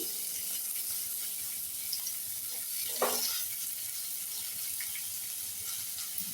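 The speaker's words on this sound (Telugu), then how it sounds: "ఇలా టమోటాలు పచ్చిమిర్చి అన్నీ తరిగి పెట్టుకున్నాం కదండి, ఇవన్నీ మనం ఇందులో వేసేసుకొని బాగా వాడిచేసుకోవాలండి" Chopped raw tomatoes and green chillies sautéing in oil in a pan, a steady bright sizzle with soft stirring scrapes and a brief louder clatter partway through, no talking.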